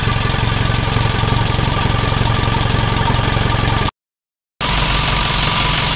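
An overhauled Isuzu 4HF1 diesel engine idles close by with an even, rapid knocking chug, briefly cut to silence before the steady idle resumes.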